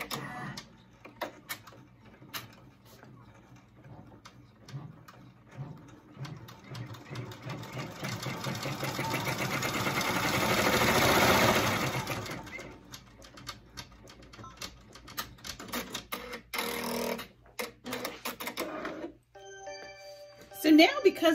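Embroidery machine stitching 3D elements onto a shirt, rapid clattering needle ticks running steadily with a louder swelling stretch midway, while people talk quietly over it.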